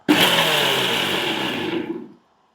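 A kitchen mixer grinder crushes garlic in one short whirring burst of about two seconds, starting abruptly, loud and close, then cutting off into silence.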